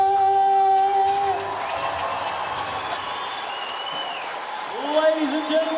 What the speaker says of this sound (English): a huge round of applause to Ethan Hall from Hallmark Music Studios